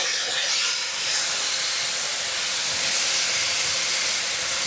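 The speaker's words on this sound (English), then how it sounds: "I'm going to put a few dashes of Worcestershire sauce" Worcestershire sauce hits green beans in a hot pan, making a continuous bright steamy hiss that swells briefly near the start and then holds steady, with no talk.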